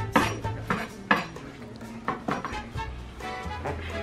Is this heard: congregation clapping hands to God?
no